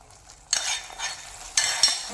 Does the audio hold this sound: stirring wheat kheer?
yes